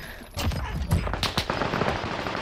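Sniper gunfire in a shooter video game, a few sharp close shots cracking in quick succession over a busy game backdrop, loud and brief.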